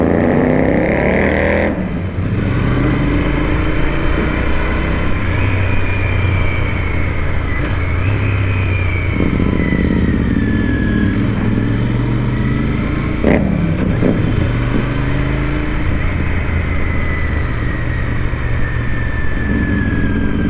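A Royal Enfield Interceptor 650 motorcycle engine rumbles steadily and loudly up close, its pitch rising and falling as the throttle is revved, with no talking.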